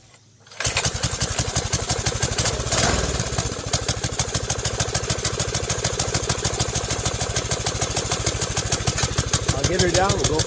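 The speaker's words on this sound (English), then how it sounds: "So how about we fire this motor up and see how she sounds" A 1974 JCPenney Golden Pinto mini bike's small engine catches after a quiet start, revs briefly, then settles into a steady, loud, rapid idle chug that runs throughout, with a voice talking briefly near the end.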